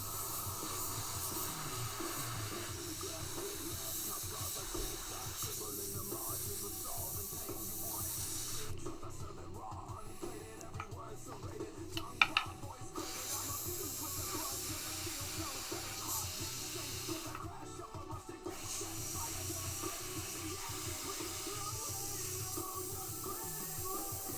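An airbrush sprays paint onto a 3D-printed Spawn bust with a steady close hiss that pauses briefly a few times, with faint background noise and no talking.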